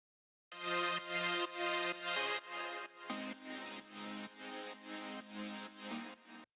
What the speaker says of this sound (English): Now we need synth chords to support the melody.